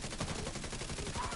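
Rapid automatic gunfire from an assault turret in the video game The Division 2, a dense continuous burst of loud shots with no pauses across the short stretch.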